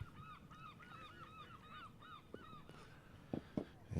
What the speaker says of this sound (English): Hear the wonderful sound of the seagulls.